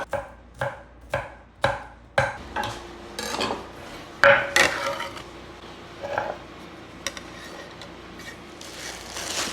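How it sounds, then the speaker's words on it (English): A knife mincing garlic on a cutting board gives a quick run of crisp, evenly spaced chops up close, then looser scraping and knocking sounds as the pieces are gathered. "Mince, mince, mince."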